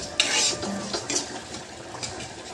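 Washed moong dal frying in a pan, a soft crackle with light scraping and stirring clinks of a utensil against the pan, faint and close, no talk.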